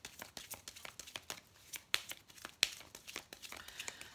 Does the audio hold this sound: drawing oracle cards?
yes